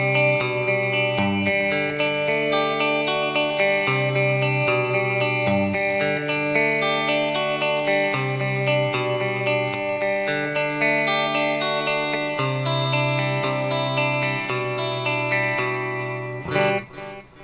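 Electric guitar playing a sustained, shimmering riff from Boston's "More Than a Feeling" with chorus and delay, notes ringing into each other over a low held bass, steady and fairly loud.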